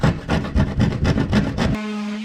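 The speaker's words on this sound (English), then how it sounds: "I'm going to use the handsaw to finish it" A handsaw cuts wood during a kitchenette build inside a mini camper, with about eight quick, evenly paced rasping strokes close by, ending abruptly before a steady hum.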